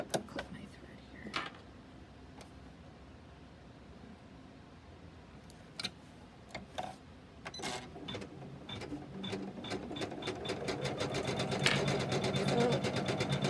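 Embroidery machine stitching a snowman in white thread, running as a steady mechanical whir with rapid needle clatter that builds louder toward the end, scattered with occasional sharper clicks.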